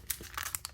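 Plasticky zipper pouch crinkles as it is handled, with several short crackling bursts close to the mic, quiet and without talk.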